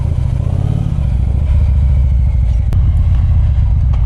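A motorcycle pulls away on a humid, foggy day and cruises, its engine a steady low rumble with a brief rev at the start, loud and close, with wind noise and no talking.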